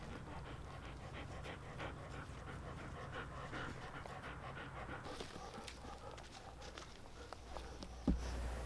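A dog pants rapidly and close by while running in a grassy dog park at an RV campground, with light footfalls and patter in the grass and no talking.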